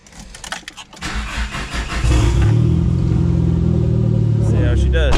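A Starion/Conquest sports car, roughly thirty years old and freshly fitted with proper fuel pressure, cranks and fires up, then settles into a steady loud engine note as it pulls away, with brief talk near the start.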